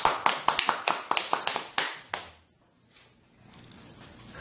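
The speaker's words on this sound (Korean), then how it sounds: "박수 한번." A small group at a Korean Bible study session gives a short round of applause: about a dozen sharp, close claps over two seconds, followed by near silence.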